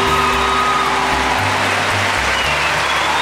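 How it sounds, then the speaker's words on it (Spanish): Steady, loud applause from a graduation ceremony audience honouring new psychology graduates, a dense, even wash of clapping held for the whole stretch with a low hum underneath. "Ofrecemos un fuerte aplauso a los nuevos psicólogos."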